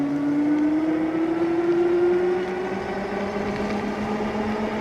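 A Jansno X70 electric moped on a speed run, its motor giving a steady rising electric whine that climbs in pitch over a few seconds, with wind and road noise underneath.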